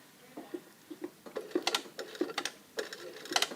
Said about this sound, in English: I'm now going to stitch from this side to that pin, exactly from that corner